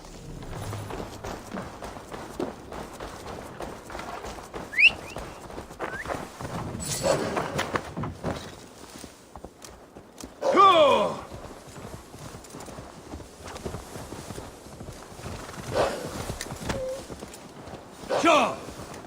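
Horse hooves clip-clopping in Assassin's Creed Valhalla, a steady trotting rhythm close by with a few louder thumps and brief jingles, a voice talking over parts of it.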